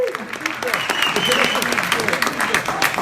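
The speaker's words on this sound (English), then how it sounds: "Big warm applause." Audience claps warmly for a speaker at a tech meetup on augmented reality, steady crowd applause running throughout with a voice talking over it.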